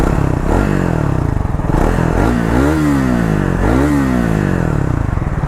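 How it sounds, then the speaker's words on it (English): A Triumph Thruxton 400 motorcycle idles with a throbbing exhaust note close by, then gets two sharp throttle blips that rise and fall back to idle, with no talk over it. "let me give you the exhaust note of this motorcycle."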